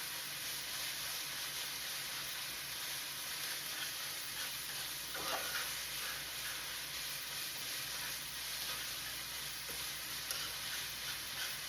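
Ground meat with garlic powder browning in a pan for stuffed bell peppers, a soft, steady sizzle at low level with a couple of faint stirring scrapes, no talk.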